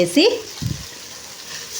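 Chutney frying in oil in a pan gives off a brief, soft, steady sizzle, with a short low thump partway through.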